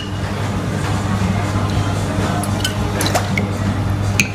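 Pinot sherry trickles into a metal cocktail jigger behind a bar, a brief soft liquid pour with small drips and a few light metallic clinks over a steady low hum, no voices.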